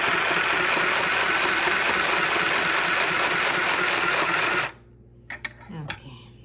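A mini sewing machine stitching fabric runs in a loud, steady whir for several seconds, then stops abruptly, leaving near silence broken by a few soft clicks and handling taps.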